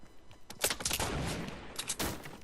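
Rapid bursts of gunfire from a Fortnite match ring out in quick succession, a busy volley of close shots layered over steady game noise.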